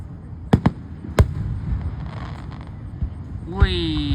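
Roadside fireworks: a Fruity Pebble Bomb cake fires a few sharp pops and bangs in quick succession, then a rising whistling screech near the end, over outdoor background noise.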